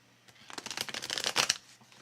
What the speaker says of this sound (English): And I'm going to do a shuffle.